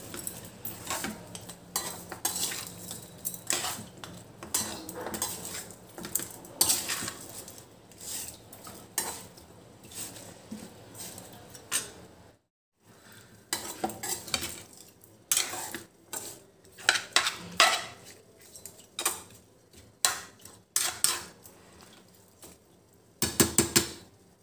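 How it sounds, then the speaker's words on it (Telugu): A spoon mixes raw chicken pieces with turmeric and salt for a chicken pickle, giving repeated close clinks and scrapes against a bowl in uneven bursts, with a short silent gap midway. "ఇప్పుడు ఈ ముక్కలకి పసుపు సాల్ట్ బాగా పట్టే విధంగా స్పూన్ తోటి కలుపుకోవాలి"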